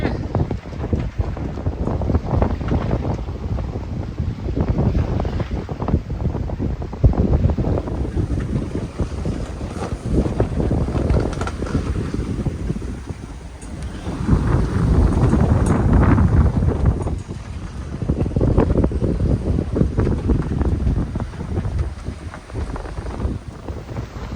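Strong wind of about 23 knots roars across the microphone aboard a sailboat with the full genoa out, gusting loud and rough with water rushing beneath and faint voices at times.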